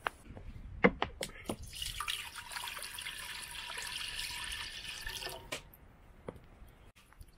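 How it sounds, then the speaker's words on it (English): Water is poured into a pot over a campfire for simmering venison ribs, a soft splashing pour lasting a few seconds amid scattered drips and clinks outdoors. "just get some water on the fire to start to boil to cook these ribs"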